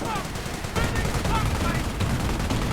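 Bren light machine gun firing in a wartime strategy video game, bursts of rapid gunfire rattling steadily over a dense battle soundscape with overlapping shots throughout.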